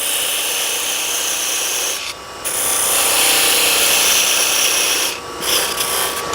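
A parting tool cuts down into a wooden box blank held in 2-inch dovetail chuck jaws on a lathe, giving a steady loud rasping scrape with two brief pauses.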